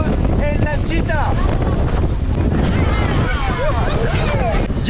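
A small motorboat runs between beaches near Rosario and Barú. Steady wind buffets the microphone over the engine and water noise, with faint, muffled voices underneath.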